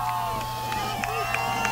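Cape girls soccer fans fill a stadium at a Freeport versus Cape girls soccer match with a steady, distant crowd roar, a continuous wash of murmur and faint shouts with no clear breaks.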